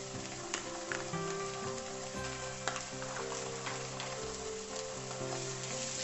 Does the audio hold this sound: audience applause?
no